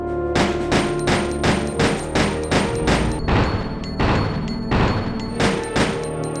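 Gold Luger P08 pistols in Resident Evil Survivor 2 fire a rapid run of about a dozen loud, sharp gunshots in steady rhythm, close and punchy with ringing tails, with no talk.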